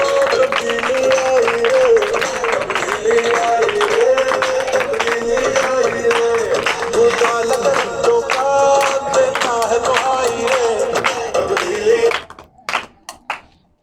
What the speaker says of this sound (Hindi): the prime minister of Pakistan Imran Khan के लिए ज़ोरदार तालियां बजा दीजिए